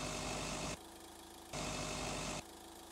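Engine idle loop from an FMOD adaptive engine sound demo, with two idle versions alternating: a steady low rumble, then a brighter, louder burst, then the rumble again, switching abruptly every second or so with no talking.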